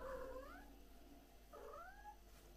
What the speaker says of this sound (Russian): Кошка, не взвывай.